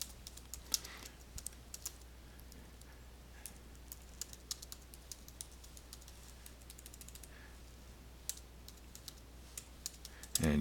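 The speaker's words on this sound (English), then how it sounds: "And you see me typing here" Quiet, irregular clicking of keys being typed on a computer keyboard, soft taps in uneven bursts over a low steady hum.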